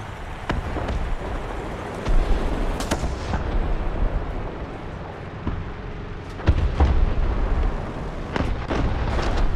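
Bomb explosions and gunfire in the tank battle game War Thunder, a continuous rumbling battlefield with repeated heavy blasts and sharp shots, loud and booming throughout.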